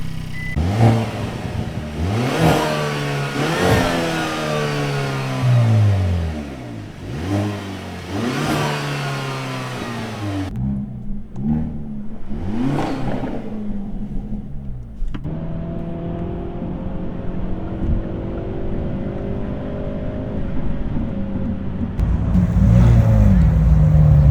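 A Hyundai Elantra N engine revs repeatedly with the hood shut, rising and falling in loud bursts, then settles to a muffled idle before revving again.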